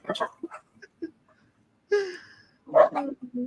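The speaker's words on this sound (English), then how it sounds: "Dogs. Dog. The dog ASMR." A dog barks and yelps in short bursts, a few sharp close barks separated by quiet gaps, with faint indoor sounds between them.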